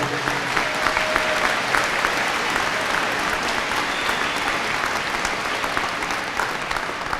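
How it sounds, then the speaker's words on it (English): An audience at a commencement ceremony applauds the band after the national anthem, a dense, steady wash of clapping that stays loud throughout with a faint murmur of the crowd underneath. "Give them another round of applause."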